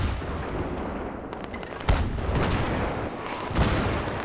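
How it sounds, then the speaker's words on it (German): A gunship in Battlefield 3 fires on a tank, producing a steady rumbling barrage punctuated by two louder booming impacts, dense and fairly close. "So, jetzt habe ich ein bisschen auf den Panzer gefeuert."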